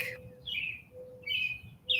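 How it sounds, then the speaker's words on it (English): Short bright bird chirps come in three quick bursts over a low steady hum, fairly close and clear. "you have a lot of bird sounds to listen to today"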